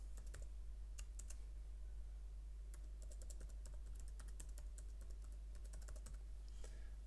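Typing on a computer keyboard while entering an email address for a WordPress plugin activation: a steady run of quick, light key clicks over a constant low hum, no voices.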